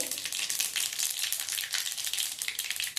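Mustard and cumin seeds crackle and sizzle in hot oil, a dense, steady frying hiss with quick spitting pops running throughout, close and fairly loud.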